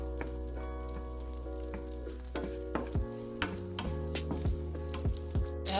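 Halved tomatoes and crushed garlic sizzle in a pan for a spaghetti and Vienna sausage dish, a steady close frying hiss with a few sharp utensil knocks and scrapes toward the end.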